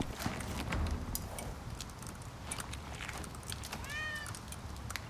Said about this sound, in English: When a cat meows in the game